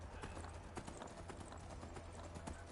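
Horse hooves clip-clopping in a video game, a fast steady rhythm of hoofbeats continuing throughout, fairly faint against a constant background hum.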